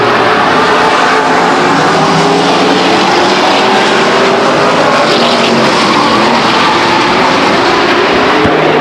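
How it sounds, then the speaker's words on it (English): Stock cars roar around a short oval at Stockton 99 Speedway as several spin out, a loud, continuous blur of engines with faint tyre skids, heard up close from trackside. "That's Jeff Thomas and the 97 car of Connor Soto spinning."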